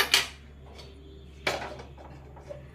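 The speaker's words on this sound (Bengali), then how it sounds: "ঘি কড়া চাপাচ্ছি" A metal wok (kadai) is set down on a kitchen stove: two sharp clanks about a second and a half apart, followed by lighter scraping and clinks, with a steady low stove hum underneath.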